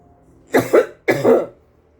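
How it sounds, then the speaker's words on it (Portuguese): Two harsh coughing fits, each a quick double burst, sound close and loud against near silence. "Peço desculpa, gente, com essa tosse."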